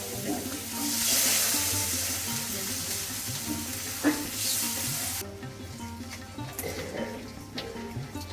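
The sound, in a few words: pouring water into frying spices in pan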